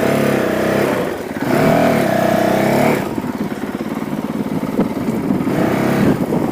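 A Honda CRF450L dirt bike engine restarts after a stall, starting with a rough idle, then a brief higher rev and a steady, close, loud putter.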